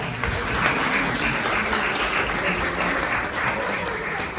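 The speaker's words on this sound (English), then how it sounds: "Let's give them all a round of applause." Sustained applause from a panel event audience, steady and fairly loud throughout with a dense wash of clapping.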